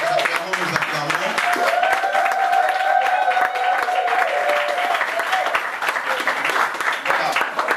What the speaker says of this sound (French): Nous acclamons la parole du Seigneur.